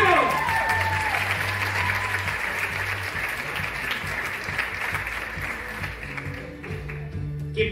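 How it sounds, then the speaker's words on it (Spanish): A festival audience applauds and cheers at a presentation, sustained dense clapping with some cheering under a voice at the start, tapering slightly toward the end. "¡Un aplauso!"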